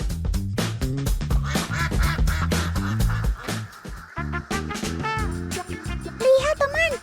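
Laying ducks quack repeatedly at close range, a busy run of sharp, overlapping quacks in an uneven rhythm that keeps going throughout.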